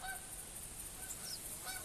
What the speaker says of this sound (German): Guck mir die Gänse hier mal an.